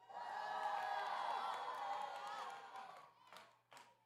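A student audience cheers and shouts at a midweek gathering in one loud, sustained burst that fades after about three seconds, followed by a few scattered claps and calls.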